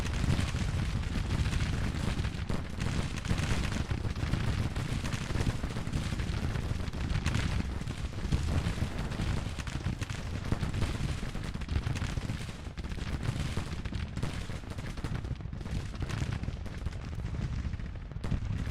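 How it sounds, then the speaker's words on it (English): Continuous artillery fire and musketry in a Civil War battle video game, a dense, unbroken roar of overlapping booms and gunshots holding loud throughout. "And all my artillery is plugging away."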